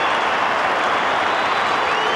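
Football crowd at a 1998 St Kilda v Essendon Australian rules match cheering a goal, a sustained dense roar of applause and cheering that stays loud throughout.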